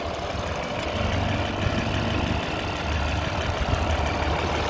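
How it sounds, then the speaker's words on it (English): A 2016 Jeep Grand Cherokee Summit 4x4 diesel idles steadily up close, a constant low rumble with a faint knocking clatter and no voices. "today we have a 2016 Jeep Grand Cherokee Summit 4x4 with a diesel"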